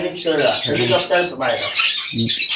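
Exotic birds at a bird farm, rosellas among them with pigeons nearby, squawk and chatter loudly and continuously close by, harsh overlapping calls filling the scene.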